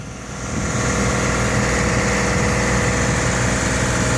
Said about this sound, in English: Dan is the man with the roto hammer, and slow and steady.